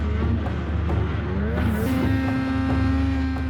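Snowmobile climbing a Canadian mountain at full throttle, a loud sustained engine roar with its pitch rising as it labors, continuous and close.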